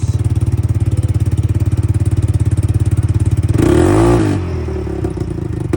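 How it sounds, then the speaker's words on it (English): Polaris RZR 200 UTV with a torque upgrade and aftermarket exhaust idling in a steady, rapid loud putter near the microphone, then briefly revving up with a rising, falling whine before settling back to idle. "Give it a little gas. Rev it up."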